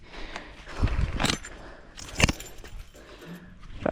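A bunch of keys jangles and clinks in a few short bursts close by, with scuffing movement and quiet handling noise between the rattles.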